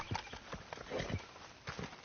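Hooves clip-clop on the ground as a horse moves in Red Dead Redemption, a few uneven thuds with faint background sound and no talk.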